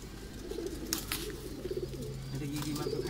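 Pigeons in a rooftop loft coo in soft, repeated low calls, a little distant, with faint voices and a few brief bumps and rustles over a steady low hum.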